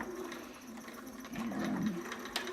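A domestic sewing machine stitches a seam on a baby romper, a soft whirring run that grows louder midway and continues steadily to the end, with no talking.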